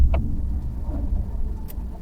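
A pickup truck drives along with a steady low engine and road rumble heard from inside the cab, joined by a couple of brief faint clicks.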